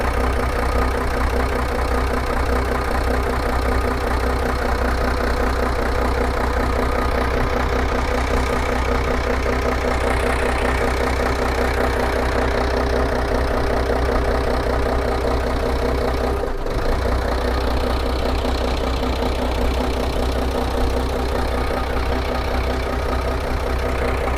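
A Hino EP turbo diesel bus engine from Kantharalak, Sisaket idles steadily, a continuous low rumble with a rough mechanical chatter that holds close and even throughout, with one brief dip near the end.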